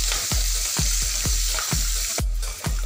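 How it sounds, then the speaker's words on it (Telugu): Sliced onions, green chillies and curry leaves for carrot rice sizzle loudly and steadily in hot oil, with a spatula scraping through them in quick regular strokes, close up with no voices. "మనం తీసుకున్న ఉల్లిపాయ ముక్కలు, అలాగే పచ్చిమిరపకాయలు, కరివేపాకు కూడా వేసేసుకొని ఇవన్నీ కూడా ఒకసారి కలియబెట్టాలి."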